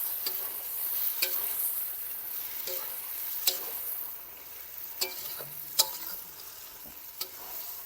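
Meat stirred in a hot pan on a rooftop cooking setup, a steady close sizzle of frying with scattered scraping clicks and knocks of the spoon against the pan, no talking.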